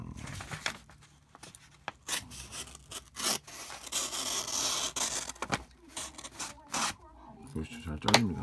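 A Leatherman Squirt PS4 mini multitool blade cuts through material in close, rasping strokes with scratchy sawing textures and sharp snips. Someone talks intermittently over the cutting.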